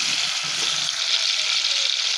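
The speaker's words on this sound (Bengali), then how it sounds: "মাছটা ভেজে তরকারিতে দিব" Koi fish fries in hot oil for a curry on a village clay stove. A loud, close, continuous crackling sizzle holds steady from start to finish, with no talking.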